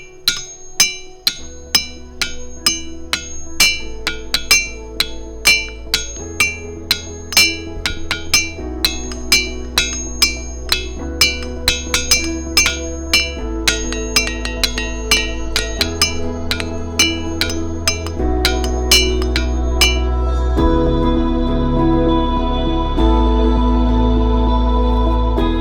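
Repeated metallic, bell-like clinks of a hammer striking boulders in a ringing rocks field in Bucks County, Pennsylvania, rising in steady rhythmic runs of varied pitch, loud and close with lingering tones.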